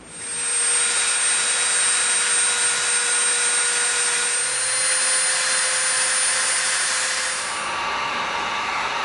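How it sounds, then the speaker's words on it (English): A Dremel rotary tool rounds the edge of a piece of EVA foam, a steady high-pitched whine with a constant tone that runs close and loud for several seconds, then eases off near the end. No one speaks. "we're going to use our Dremel and we're going to round the edge"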